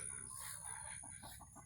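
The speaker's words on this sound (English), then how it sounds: "Chickens are all doing good." Backyard chickens cluck at a distance in a steady, faint chorus of short repeated calls, with no voices.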